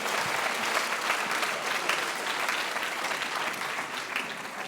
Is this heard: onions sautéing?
no